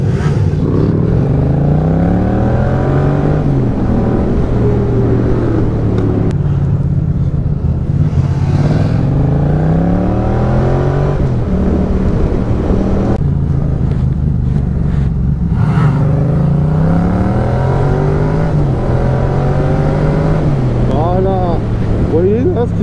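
Motorcycle engine revving hard as the throttle is opened wide to lift into a wheelie, loud and sustained with rising and falling pitch sweeps, someone talking over it throughout.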